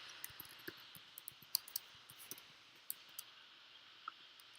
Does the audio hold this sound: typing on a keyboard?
yes